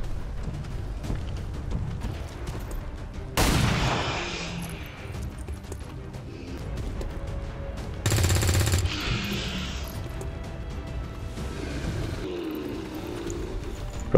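Gunfire in the turn-based video game XCOM 2: two loud bursts of shots stand out over a background of game ambience and music, each with a short rumbling tail.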